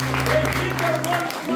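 A church congregation claps for a young girl named Ana Clara, a brief wash of applause running beneath a sustained musical tone, with some voice-like sound mixed in.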